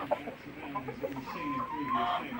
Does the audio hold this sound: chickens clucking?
yes